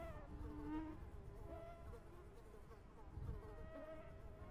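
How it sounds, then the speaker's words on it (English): During an outdoor duck hunt, a mosquito buzzes in a faint, continuous whine close by, wavering slightly in pitch, with no talking. "Get away, mosquito."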